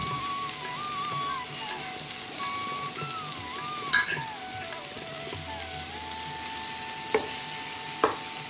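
Tomatoes for a jackfruit curry sizzle and fry in a pan, a steady crackling hiss with a few sharp clacks of a spoon against the pan as they are stirred, and no talking.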